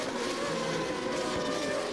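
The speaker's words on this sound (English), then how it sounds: "You hear that distinctive engine note, an 8-into-1 exhaust system on these cars." A loud, steady GP2 race car engine with an 8-into-1 exhaust drones throughout, a dense buzzing roar with no breaks.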